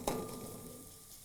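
Onions softening over a slow, low flame in a kadhai for spicy kadhai paneer curry give a faint, steady sizzle, opening with one brief clink or stir.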